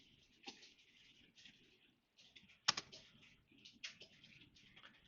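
Quiet computer keyboard typing, with a few scattered soft key clicks and one sharper press as Shift and 7 are struck, heard close in a still room.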